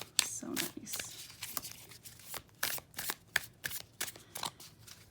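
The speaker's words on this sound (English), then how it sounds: "They're super smooth cards. They shuffle so nice." Oracle cards with a smooth finish are shuffled close up in quick, crisp riffling bursts, a rapid papery flutter repeating in an uneven rhythm with brief pauses between, with no voices.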